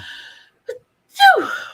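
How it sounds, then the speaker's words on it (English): A single loud, close sneeze with a sharp breathy intake just before it, then a brief trailing exhale. "I gotta sneeze, y'all."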